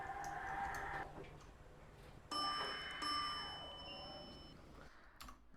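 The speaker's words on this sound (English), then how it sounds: "So that is how the chimes work" Electronic elevator chimes ring out in Skyscraper Simulator, clear bright tonal dings: one soft tone early, then a louder sustained chime around the middle that fades, with faint clicks and low background hum.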